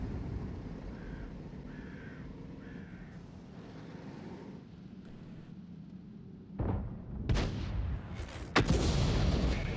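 SU-14-2 self-propelled artillery fires in the tank battle game World of Tanks, a loud booming report after a stretch of quieter ambient battle noise, followed by further sharp blasts.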